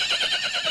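A cartoon horse gives a short, wavering whinny, close and loud, heard on its own for under a second.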